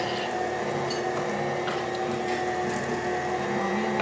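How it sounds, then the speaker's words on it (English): Deer meat being ground indoors in a meat grinder for Italian sausage, giving a loud, steady mechanical whir with a wet, squishing texture that runs unbroken throughout, with no voices. "We're doing a little grinding of our meat here."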